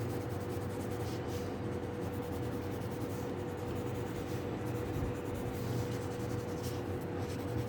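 A 4B graphite pencil shades drapery on paper in a still-life drawing, giving a steady, close, soft scratchy hiss of continuous strokes over a low background hum.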